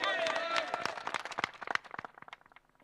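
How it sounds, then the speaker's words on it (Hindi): Scattered, thin clapping from a crowd at an outdoor election rally in Nimod, Nagaur, with sharp separate claps that thin out and fade over a few seconds, mixed with crowd murmur. "हाँ ताली कमजोर बाजी भाई है ना।"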